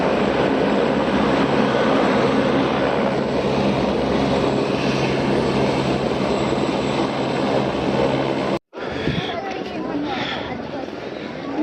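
A helicopter flies toward Kedarnath, its engine and rotor producing a loud, continuous drone up close that cuts out abruptly near the end, then resumes more roughly.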